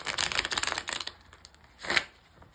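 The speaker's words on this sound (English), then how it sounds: "I have a hard time shuffling this bigger deck" A stiff, large deck of cards is shuffled close by, a fast flurry of riffling clicks followed by a short pause and a second brief riffle.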